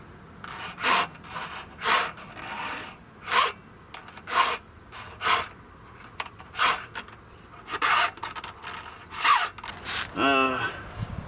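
Hand file rasping across the cutters of a new Craftsman 42cc S185 18-inch chainsaw chain on its first sharpening, in steady repeated strokes about once a second, close and fairly loud, with brief speech near the end.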